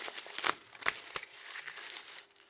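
Old paper packaging material being cut, giving close, dry crinkling and crackling with a few sharp snips and rustles over a couple of seconds.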